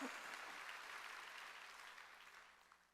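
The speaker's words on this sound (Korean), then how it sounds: "박수요 박수." Church congregation applauding during a Wednesday worship service, a steady wash of clapping that starts loud and gradually fades over a few seconds, with no voices on top.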